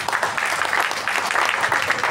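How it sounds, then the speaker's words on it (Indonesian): Audience applause at a village entrepreneurship talk show in Klaten, a steady, even patter of many hands clapping that fills the room for a couple of seconds. "Apresiasi, tepuk tangan dulu."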